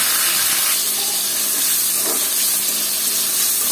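Onions hit hot oil already frying dried loitta fish, producing a loud, steady, close hiss of sizzling that holds evenly without pause or voices.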